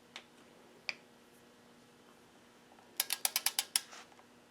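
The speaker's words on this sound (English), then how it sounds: "now we're ready to torque down the head bolts" Torque wrench on Subaru EJ cylinder head bolts: two isolated clicks, then a quick burst of about seven crisp ratchet clicks, close and fairly quiet with no talk.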